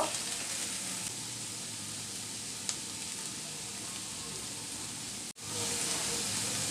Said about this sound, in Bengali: দুইটা কাঁচামরিচ কুচি আর হাফ চামচ আদা রসুন বাটা একসাথে আমি চিকেনটা দিয়ে দিব